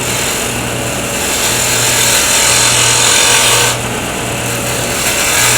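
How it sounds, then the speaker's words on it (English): A wooden pen blank spinning on a woodturning lathe while a skew chisel cuts it, giving a loud, steady motor hum with a hissing, scraping cut close by that briefly changes near the end. "I can go right to my skew chisel"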